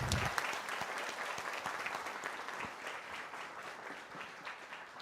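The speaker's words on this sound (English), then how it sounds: "May I have a round of applause?" A round of applause from an audience in a hall welcoming a distinguished guest at a leadership event, steady dense clapping that swells at first and then slowly fades, with no voices over it.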